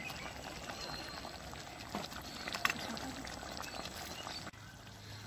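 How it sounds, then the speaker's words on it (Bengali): A small splash of water is poured into a whole-quail roast cooking in a village kitchen, a soft, steady trickle and faint simmer heard at low volume. "পরিমাণ মতো জল দিয়ে দেবো, বেশি জল দেবো না, একদম সামান্য জল দেবো"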